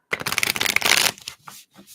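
Tarot cards shuffled by hand during a live reading, a dense run of riffling and slapping card noise up close for about a second, then a few softer separate shuffles trailing off.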